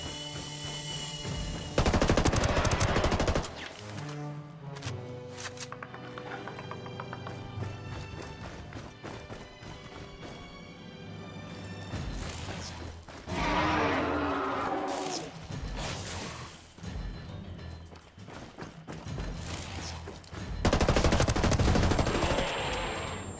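Gunfire in the video game Ghost Recon Wildlands comes in several loud, sharp bursts and volleys, with quieter stretches of game effects between them and no talk.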